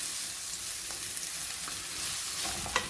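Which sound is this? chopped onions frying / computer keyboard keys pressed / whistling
chopped onions frying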